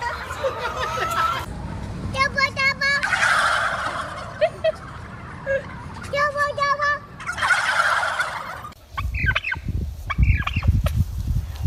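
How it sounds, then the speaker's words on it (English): A turkey gobbles loudly several times in rapid rattling bursts, close by, while people talk and laugh around it. "This is the infamous turkey."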